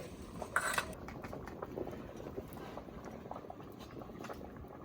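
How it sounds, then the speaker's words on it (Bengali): Khichuri of rice and vegetables boils in a pot on a village home stove, a steady low bubbling and simmer with a few clinks of a utensil against the pot. "খিচুড়ির চাল সুন্দর ফুটে গেছে"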